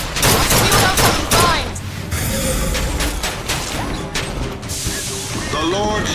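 Gunfire from a Bioshock Infinite firefight crackles in repeated bursts and impacts, dense and close, with occasional voices and game effects mixed underneath.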